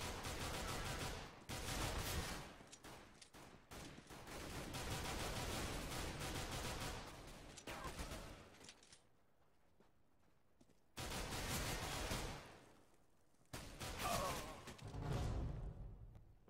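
Pistol gunshots in the game CS:GO, a dense stretch of rapid loud shots with broadband bursts, a quiet gap mid-way, then further volleys of firing toward the end.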